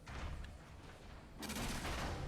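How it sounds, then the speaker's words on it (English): Plasma cannon firing in the video game Red Faction: Armageddon, a dense burst of heavy blasts that grows louder partway through and keeps rumbling to the end. "Plasma cannon."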